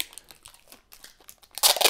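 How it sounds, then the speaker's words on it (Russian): Adhesive tape crinkles and crackles as it is wound several times around the cap of a water bottle holding Zamzam water, in short bursts that end in a loud, close ripping crunch. "несколько оборотов делаете, вот показываю, чтобы как-то зафиксировать крышечку"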